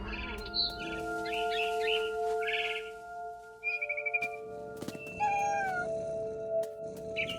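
A cat meows in the game What Remains of Edith Finch, with bird chirps from a frightened barn swallow and layered game music tones underneath, several short calls spread across the scene.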